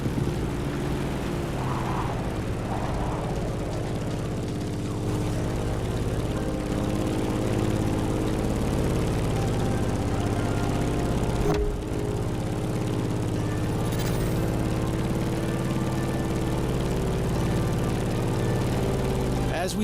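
Steady, loud propeller drone of a Grumman F-8F Bearcat in The Crew Motorfest, a continuous low engine hum gaining altitude, with slight swells and one brief dip midway.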